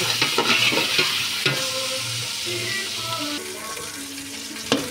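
Water is poured into a hot sizzling pan while rice porridge cooks, a crackling, bubbling fry with stirring scrapes and a sharp clink near the end, close and continuous, with no talking.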